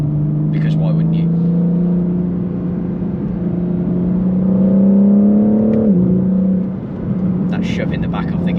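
A BMW M4 CS pulls hard on the road. Its engine note climbs steadily, loud and close, then drops off sharply with a brief dip, as if at a gear change, before the drone carries on. A few faint sounds of the driver come in over the top.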